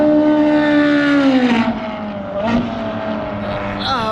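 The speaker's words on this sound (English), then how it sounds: "Is that a Ferrari?" A Ferrari sports car passes close by on a track, a loud, high engine note sweeping downward in pitch as it goes past, under the steady road and cabin noise of another car.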